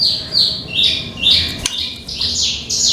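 A songbird chirps in quick repeated bursts of high, sweeping notes, loud and close, with short pauses between phrases and no voices.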